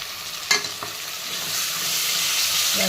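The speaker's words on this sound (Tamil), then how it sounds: "தக்காளி போட்டு நல்லா வதங்கணும்." Tomatoes sautéing with onions in a pan for a quick vegetable rice, a steady loud sizzle with one sharp stirring scrape near the start and a faint knock later, no voices.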